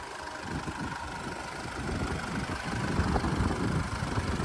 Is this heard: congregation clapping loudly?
no